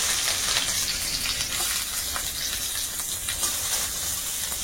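Chopped onions frying in hot oil in a pan after chillies were fried, giving a steady, close sizzle that holds evenly throughout with no talking.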